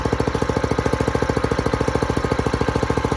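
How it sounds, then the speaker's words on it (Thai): Small multipurpose walk-behind tractor engine idling to warm up, a steady rapid thumping putter that stays loud and close without changing pace. "ในรอบเดินเบาวอร์มไว้สักประมาณ1-2 นาทีนะครับ ค่อยเร่งเครื่องใช้งานนะครับ"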